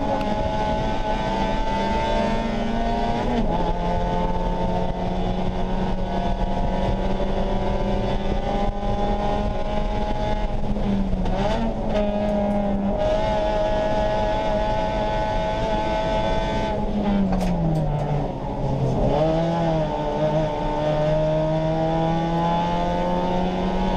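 Race cars lap Road Atlanta in the rain, engines droning loudly and continuously with rising and falling pitch as they shift and pass, and a wash of wet road noise underneath.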